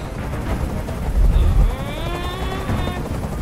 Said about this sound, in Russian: Прикажи им, чтобы вертолет убрался!